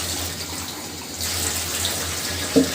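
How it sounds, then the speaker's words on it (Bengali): Broth is poured into a pot of beef and new potato curry: a steady liquid rush that grows a little fuller partway through, ending with a brief knock, with no talk. "আর একটু ঝোল দিয়ে দিলাম।"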